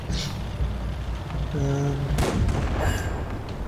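Tank cannon fire in the World of Tanks video game as one tank is destroyed: a sharp, loud boom with a rumbling tail, followed by a second burst and game engine drone.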